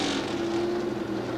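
A Chevrolet Monza drag race car with a small Chevrolet engine, running at the 1976 NHRA Gatornationals, holds a loud steady engine drone at the start line, a sustained rumble with a tonal hum across the short stretch.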